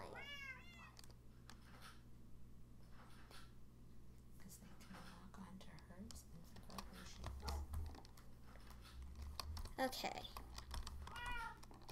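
A cat lets out a rising meow at the start and again near the end, close and moderately loud, amid keyboard typing, rustling and a brief spoken word.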